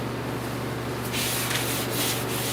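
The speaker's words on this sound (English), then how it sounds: "I'm gonna just come in with wax and grease remover" Rag wiping wax and grease remover across a car body panel during rust repair prep: a steady soft rubbing hiss that grows louder and coarser halfway through, close and continuous over a low electrical hum, no talk.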